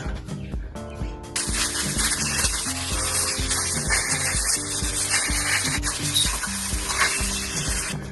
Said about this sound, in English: So I have to sand it up, grain it a little bit.